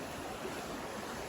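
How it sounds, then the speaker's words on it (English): Faint, steady rush of stream water flowing at a water source along the Tahoe Rim Trail, a soft continuous wash with no other sounds. "It's nice to hear the sound of that water."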